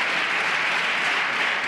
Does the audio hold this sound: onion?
no